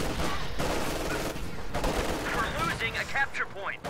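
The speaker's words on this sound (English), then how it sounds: "Grenade going off on those grenadiers" Grenade blast in Company of Heroes, set amid dense, continuous battlefield gunfire and explosions, with a broad burst early on followed by crackling shots and whistling effects, under overlapping game chatter.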